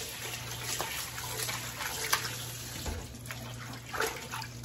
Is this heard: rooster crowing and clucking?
no